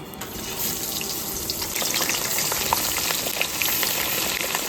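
Pabda fish fry in a pan alongside taro, giving a continuous, moderately loud hissing sizzle with a watery, bubbling texture that builds slightly and holds steady, with no talking.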